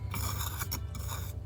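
Continuous rough scraping as the edge of a rock is worked smooth, a close, steady rasping texture with slight rhythmic strokes throughout, no speech.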